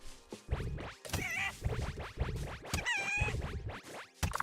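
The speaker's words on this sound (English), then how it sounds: "They sound like chicken." Small creatures called kibbies in the video game Reforj give clucking, chicken-like calls, several short squawks in quick irregular succession with shrill tonal bursts, quiet and close.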